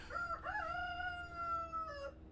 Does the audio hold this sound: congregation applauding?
no